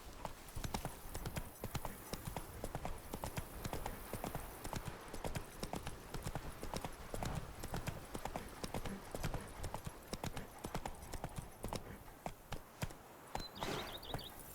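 Roach, Geralt's horse in The Witcher 3, trots along with steady, close clip-clopping hooves that keep an even rhythm throughout, with no voices over them.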